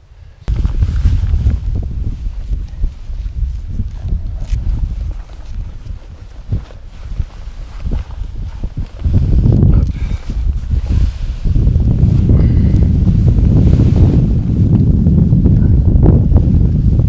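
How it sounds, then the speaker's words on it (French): Strong coastal wind on the Greenland shore buffets the microphone in a loud, continuous roar that gusts harder partway through, with faint rustling underneath. "Le vent s'est un petit peu levé, mais on va pouvoir y aller."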